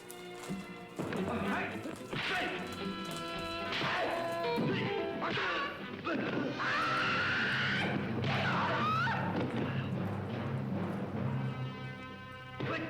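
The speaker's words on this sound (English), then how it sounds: "This is a great fight scene." A 1972 martial arts film trailer plays fight sound effects: repeated smashes, crashes and thwacks, with some clattering like hooves, all mixed with loud voices and music throughout.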